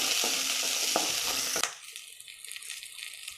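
Onion, garlic and chili sauté in hot oil for tamarind chutney, with a loud crackling sizzle and scraping stirs that suddenly drop after a moment to a much quieter, gentler frying.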